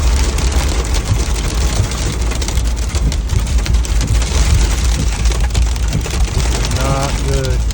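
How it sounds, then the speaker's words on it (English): Hail drums densely and steadily on a roof during a high wind storm, a loud, continuous rattling roar with gusting noise underneath and a voice briefly heard near the end. "I think there's hail on the roof now."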